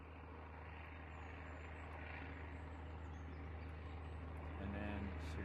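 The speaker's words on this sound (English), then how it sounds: "I'm hearing this noise. Oh yeah, there it is. Look, the plane." An airplane flies overhead in the survival video game SurrounDead, a steady, low engine drone that holds evenly and grows slightly louder near the end.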